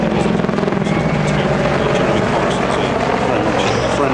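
Helicopter flying a display at the Biggin Hill Airshow, its steady rotor and engine roar filling the air continuously and loudly, with a voice talking over it.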